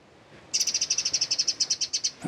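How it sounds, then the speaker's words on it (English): A wren sings near an island cottage, a rapid run of about sixteen bright, evenly spaced high notes delivered loud and close in a quick trill, with quiet background before and a soft thump at the end. "I popped out to have a look at what bird that was, and I'm going to check via the Merlin app, but I think it was a wren"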